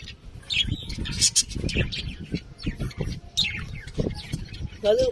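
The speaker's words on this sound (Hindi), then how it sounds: "तो ये पैरट ऑस्ट्रेलियन पैरट है" An Australian parrot calls in chirps and squawks close by, its bird sounds mixing with steady talking voices for the whole stretch.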